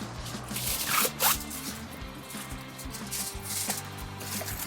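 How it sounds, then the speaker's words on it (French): Aluminium foil pulled from a roll and torn off for wrapping beef before charcoal grilling gives a few seconds of crinkling, rasping noise with a couple of sharper tearing bursts close by. "De ça, je vais me préparer un papier d'aluminium."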